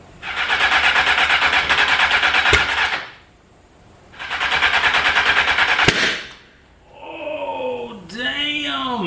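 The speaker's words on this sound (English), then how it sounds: "Got a big old pop and backfire over here somewhere." Engine revs hard in two loud sustained bursts, each ending in a sharp backfire pop, followed by a rough idle with a high whining note rising and falling.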